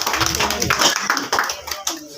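A church congregation claps together in a dense, steady burst of applause, close and fairly loud, with voices talking and calling out through it.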